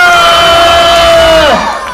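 At a youth association anniversary event, a large audience roars and cheers at full volume, with a sustained tonal hum running under the crowd noise before it fades at the end.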